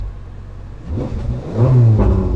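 A Ferrari 458 Spider engine revs up from a low rumble into a strong, rising acceleration, fairly close and loud, with a muted, restrained exhaust tone from its closed exhaust valves.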